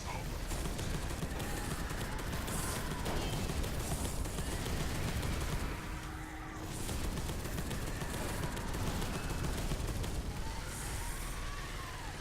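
Sustained gunfire from the sci-fi shooter Space Hulk Deathwing, a dense, continuous roar of rapid shots with a brief dip midway, loud and steady throughout.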